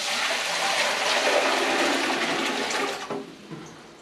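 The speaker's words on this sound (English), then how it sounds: "Water. We're going to go ahead and add this" Water pours steadily into a large outdoor cooking pot for jambalaya, a loud continuous rushing gush that tapers off near the end with a few splashes.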